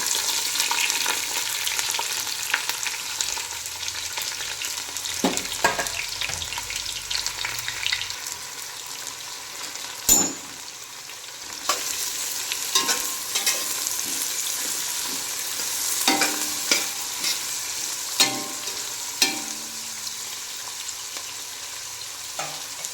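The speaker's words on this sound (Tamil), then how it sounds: "வெங்காயம் நல்லா வதங்கிருச்சு" Sliced large onions sizzle steadily in a hot pan, with occasional sharp clinks and scrapes of stirring over the constant frying hiss.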